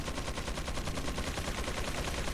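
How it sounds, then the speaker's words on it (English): Sustained rapid gunfire from enemy miniguns in Resident Evil 4, a dense continuous rattle of shots running through the whole stretch at steady loudness with no talk. "I don't like the guys with miniguns either."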